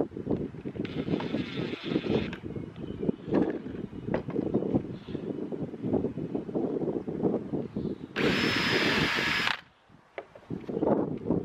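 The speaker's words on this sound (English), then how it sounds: "I'm only drilling through the top batten here" A power drill whirs through a wooden garden trellis batten in two bursts, a short one early and a louder, steadier one later, over constant wind and outdoor background noise.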